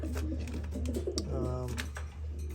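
Racing pigeons cooing in a loft where a pair is feeding two young birds, soft throaty coos close by against a constant low hum, with a few clicks and faint bits of talk.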